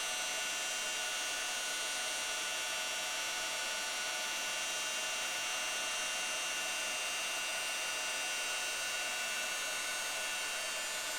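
Heat gun melting pearl embossing powder on paper, a loud, steady blowing whir with a constant tone that runs unchanged from start to finish, close to the microphone.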